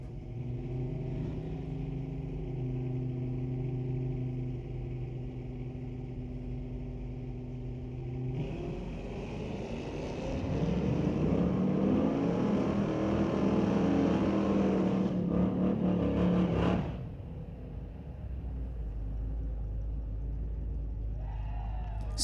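Drag race cars launch and run the strip in an NHRA Division 6 ET Finals bracket race, a steady engine drone building into a loud, harsh roar mid-run before cutting off, with faint commentary nearby.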